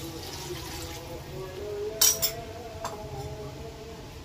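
Water saved from washing fish is poured into a pan of doi pabda curry, making a soft, steady liquid pour with a couple of brief metallic clinks midway.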